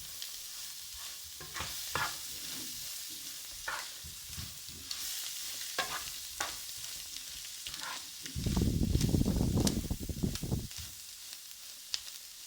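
A spatula stirs and tosses mung bean sprouts with pepper in a hot pan, making repeated scraping strokes over a constant sizzle, with one louder, fuller burst of frying noise near the end.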